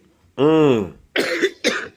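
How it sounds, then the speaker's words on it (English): A man, close to the microphone, gives a brief voiced sound and then two short, harsh coughs in quick succession, separated by near silence. "I would, but I'm coughing."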